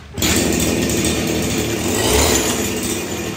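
A CG411 grass cutter's small engine runs loud and steady throughout, a continuous buzzing drone with no pauses.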